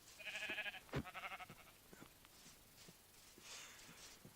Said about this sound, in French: On va se choper un mouton là qui est là.